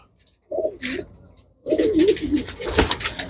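A white-eyed pigeon coos close by in a short burst, then again in a longer rolling coo over background noise.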